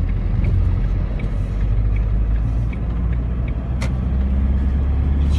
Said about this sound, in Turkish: Devam et. Ver gazı.